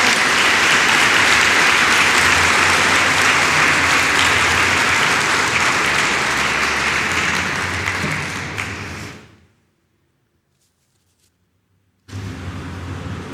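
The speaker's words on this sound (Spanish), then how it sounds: "Y si le vas a aplaudir, hazlo fuerte para el Señor" A church congregation applauds loudly and continuously for about nine seconds, then the sound drops off into brief silence before loud clapping returns.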